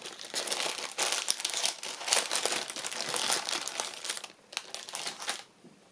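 Paper being crinkled and torn away from a page of an altered book decorated for autumn and winter, a steady close, rustling crackle for several seconds that eases off near the end, with no talking.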